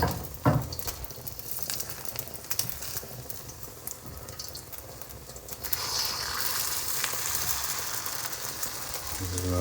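Egg frying in hot oil in a wok-style pan for special fried rice, a steady close sizzle and spatter that swells louder and brighter partway through and holds to the end.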